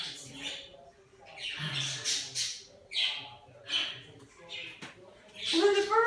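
Several birds squawk and chirp in short bursts at close range, with someone talking softly over and between the calls.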